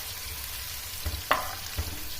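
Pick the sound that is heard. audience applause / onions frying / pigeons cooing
onions frying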